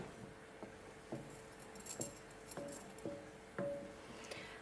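Homemade laundry washing liquid stirred in a pot off the heat, with a spoon knocking and clinking against the pot in slow, irregular, fairly faint taps over quiet background.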